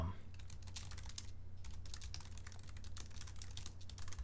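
Rapid, steady typing of text on a computer keyboard, a continuous stream of quiet, close key clicks with a low background hum.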